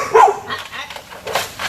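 Shelter dog barking indoors, a short loud bark at the start followed by softer yips and vocal noises within under two seconds.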